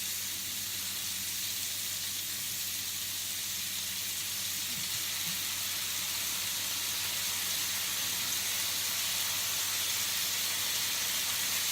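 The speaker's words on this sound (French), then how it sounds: "Nos légumes vont cuire dans cette petite sauce à huître." Broccoli sautés in oyster sauce in a pan, giving off a steady, even sizzle and hiss that holds at one level throughout, with no voices over it.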